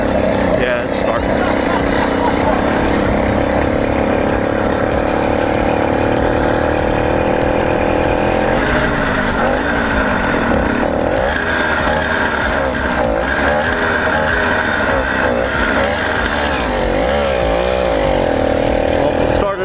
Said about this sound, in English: it started up without using choke, so that's really nice